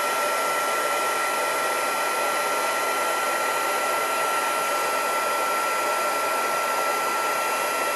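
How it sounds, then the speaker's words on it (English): A handheld heat tool blows hot air steadily to melt embossing powder on a craft project, a loud, even whooshing hiss that runs unbroken from start to finish with no voices. "my heat tool, which should hopefully still be quite warm"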